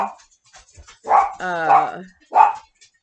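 Dog barking nearby in a home, three loud close barks with a short whining, yelping quality in between, alone without other sounds.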